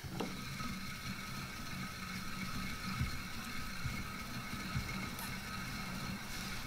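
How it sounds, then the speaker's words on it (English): A hand-cranked yarn winder turning while unwinding reclaimed yarn from thrifted knitwear, a steady close mechanical whir with faint ticking gear clicks. "So you just have to turn the handle of the winder and it will unwind it for you."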